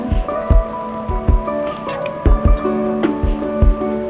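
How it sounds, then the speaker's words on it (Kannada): Washed, neatly sliced radish pieces drop into a pot of boiling water, making several soft, close splashes and plops at irregular intervals while gentle music plays underneath. "ಮೂಲಂಗಿ ಹಾಕೋಣ."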